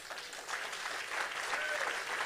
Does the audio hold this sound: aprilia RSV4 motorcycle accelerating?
no